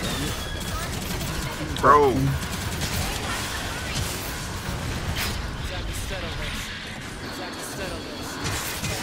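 Gunfire in the mecha shooter Gundam Evolution crackles continuously behind a voice, with a sharper burst near the start amid dense game noise.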